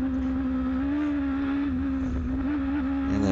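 On-board sound of a Formula Gulf 1000 single-seater race car with a sequential gearbox at Dubai Autodrome, engine droning steadily and close with a slight pitch dip as it drops to second gear for a corner entry.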